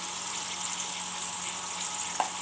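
Masala for a dry chicken curry fries quietly in a pan, a soft, even sizzle hissing continuously with one small pop near the end.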